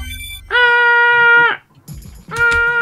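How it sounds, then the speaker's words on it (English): A phone alert chimes in a modded Abe's Oddysee game session, a loud close electronic tone held about a second, then after a short gap a second burst of the same tone. "An alert!"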